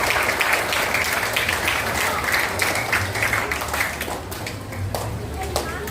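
An audience claps at the opening of a school math olympiad semifinal, producing dense, sustained applause from a crowd filling the room throughout.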